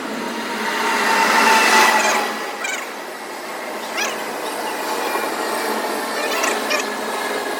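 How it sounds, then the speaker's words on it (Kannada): Rajdhani Express train pulling into Raichur station, a loud rolling rumble with squealing wheels and clanking wagons that swells early and then settles into a steady, slightly quieter roll. "ರಾಯಚೂರಿಗೆ ಬಂದ ತಕ್ಷಣವೇ ನಮ್ಮ ಟ್ರೈನ್ ಬರ್ತ ನೋಡ್ರಿ."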